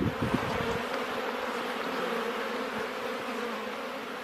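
A soft, continuous buzz of many bees in flight, steady and moderately distant, with a few brief rustling bumps at the start.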